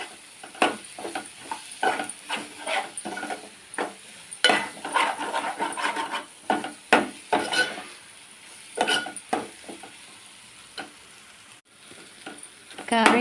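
Chili powder frying in oil with turmeric for a tamarind stew, a steady sizzle broken by frequent scraping strokes of a spoon against the pan, close and moderately loud, with no one speaking.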